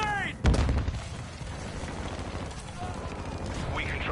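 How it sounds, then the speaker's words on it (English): A stun grenade goes off in the Modern Warfare 2 video game with a sudden loud bang near the start, followed by a ringing, noisy battlefield wash with voices underneath. "Throwing a stun grenade!"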